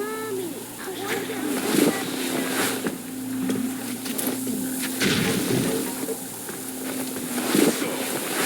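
A steady drone of a boat moving over water in the video game Metro Exodus, with wind noise, splashes and thuds mixed in, continuous throughout.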